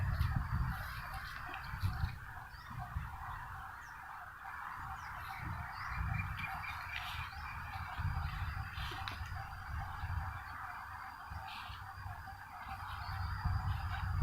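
Chickens clucking in a rural outdoor setting, a scattered run of low clucks continuing over steady insect and frog-like background noise, with no talk.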